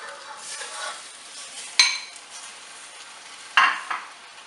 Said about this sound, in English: So firstly we're going to add the tomatoes.